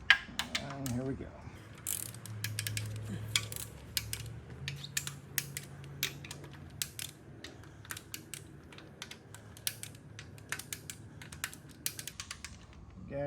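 A torque wrench ratchets and clicks while tightening bolts on a GM LSA V8 engine during a rebuild, a close series of sharp clicks and ratcheting bursts, some rapid and some spaced, with no talking.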